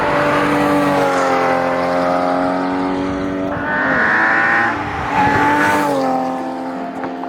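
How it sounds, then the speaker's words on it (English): A Porsche Cayman GT4 with Sharkwerks engine modifications and Cargraphic long tube headers revs loudly, its engine note rising and falling in strong harmonic sweeps, close and unbroken by speech. "it sounds brilliant with the Cargraphic long tube headers"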